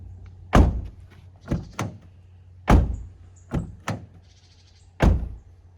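Repeated solid thunks of a Toyota Yaris Cross car door being shut, six distinct closes spaced about a second apart, each a short low impact with a brief rattle, close by and without talk.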